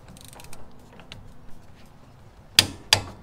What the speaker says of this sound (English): let me go grab the torque wrench